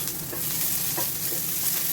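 Onions sauté in a pan for a pork caldereta. The sizzle is close and continuous, with light stirring and no talk.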